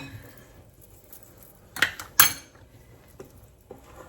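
Brown sugar being mixed in a bowl, heard as a few scattered clinks and scrapes of a utensil against the bowl, quiet between two louder knocks.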